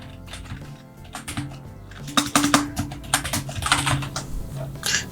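Fingers type on a computer keyboard in uneven bursts of close, crisp key clicks, sparse at first then denser and faster, with no talking.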